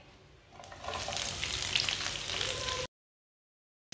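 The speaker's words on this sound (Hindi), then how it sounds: "कटी हुई सब्ज मिर्चें डालेंगे।" Chopped green chillies hit a hot pan and sizzle loudly for a few seconds. The sizzle rises sharply, holds as a bright, crackling hiss, then cuts off abruptly into silence.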